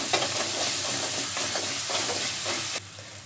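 Masala for pakora kadhi sizzles and fries in a pan while being stirred, giving a close, continuous hiss with soft scraping strokes. The sizzle drops noticeably near the end.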